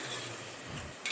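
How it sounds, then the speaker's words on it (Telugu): Curry being stirred with a ladle inside a pressure cooker, soft wet churning and a faint sizzle close by, ending with a brief metallic clink. "కర్రీ తిప్పుకోవాలి."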